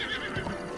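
A horse in the video game Zelda: Breath of the Wild neighs, a brief whinny over a dense, steady wash of game background sound, with no talk.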